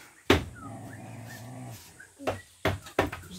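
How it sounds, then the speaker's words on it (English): A dog makes short whimpering and growling sounds at close range. The sounds come in several bursts separated by quiet gaps. "He's one angry dog."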